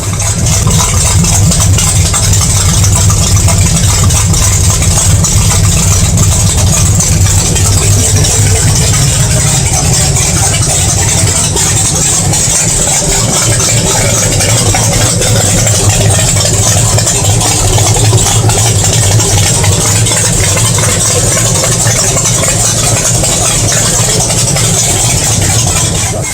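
A 1997 SN95 pro street Mustang idles with a new custom-fitted 3-inch exhaust, a loud, close, steady low rumble that continues unbroken, with no talk over it.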